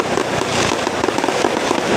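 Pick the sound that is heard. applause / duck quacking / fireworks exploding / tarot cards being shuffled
fireworks exploding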